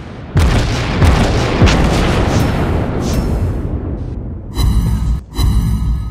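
Naval gunfire in a warship video game opens with a heavy boom followed by a long rumbling roar, then several sharper blasts of shots close by and loud.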